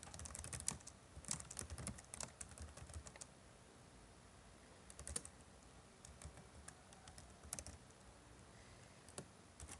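JavaScript code is typed on a computer keyboard: faint, scattered key clicks in irregular bursts over a quiet background hiss.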